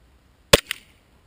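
An airsoft gas gun (WE, running Nuprol 3.0 gas) fires a single 0.20 g BB: one sharp, close crack followed by a quick fainter echo, with silence on either side.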